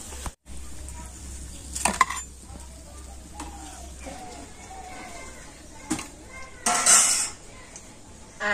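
Fried bread pitha is lifted out of a pan, with metal utensil clinks and scrapes against cookware, a few sharp knocks and a brief sizzle burst, while someone talks throughout.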